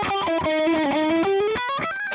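A bright, heavily distorted electric guitar plays a short sustained melodic line, loud and saturated with a buzzy high end.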